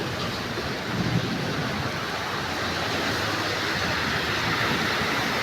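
A steady, loud wash of water and traffic noise on a flooded road, like tyres pushing through deep standing water, with a heavier surge of splashing as a vehicle passes close by.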